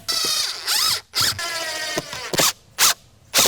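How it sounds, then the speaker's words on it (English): A drill pre-drills a hole during a storm door installation, sounding as a series of short, close whirring bursts with brief gaps between them. "Pre-drill this if you want."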